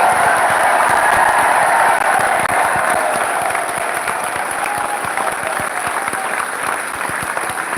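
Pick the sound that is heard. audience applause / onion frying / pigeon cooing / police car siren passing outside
audience applause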